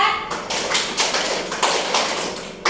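Sharp, rhythmic hand claps from a classroom clapping game ring out in a steady series of close, crisp beats with a slight pause partway through.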